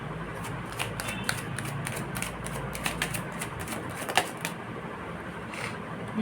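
Tarot cards are shuffled by hand and knock together in a quick, irregular flurry of light slaps and riffles, close and fairly soft, over a faint steady background hum.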